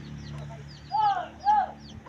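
Chickens on a backyard farm let out two short, distinct clucks close by, each a quick harmonic squawk, over a low steady background hum with no talking.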